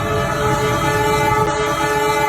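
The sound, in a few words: horns of four locomotives in an Indonesian railway (KAI) parade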